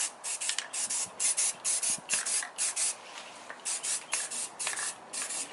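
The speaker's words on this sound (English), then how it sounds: "Just laying some paint here on the cover." Spray paint hisses onto an engine cover in a rapid series of short, close bursts, roughly two or three per second, on a Nissan 240SX S13 with a 1JZ VVT-i swap.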